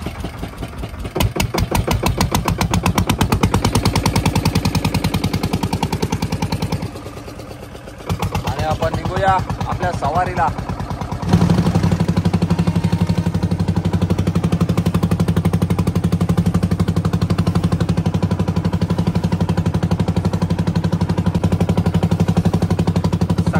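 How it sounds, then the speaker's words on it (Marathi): Fishing boat engine out for barramundi, a rapid chugging diesel pulse close by, briefly dropping then settling into a loud steady drone, with someone speaking over it partway through. "चला इंजिन स्टार्ट झालेला आहे"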